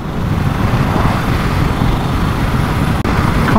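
A Suzuki V-Strom 800 DE motorcycle accelerates on the road, heard as a loud, steady engine roar mixed with wind and road rumble from the riding position.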